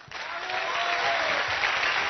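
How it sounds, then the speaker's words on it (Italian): Steady applause from a TV studio audience on an Italian variety show, swelling quickly to a full, sustained roar of clapping for two seconds. "Un applauso!"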